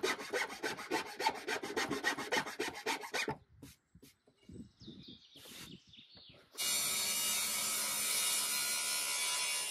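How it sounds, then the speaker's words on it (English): A rasp files and bevels wooden chair parts with rapid, rhythmic rough strokes for about three seconds, then brief scrapes and knocks, followed by a steady loud broadband rasping rush near the end; no one speaks. "I used a rasp to clean them up and give them a little bit of a bevel"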